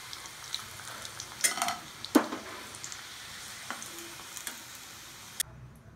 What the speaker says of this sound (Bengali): আর স্ন্যাক্সের জন্য একটু ফিশ ফিঙ্গার ফ্রাই করে নিচ্ছি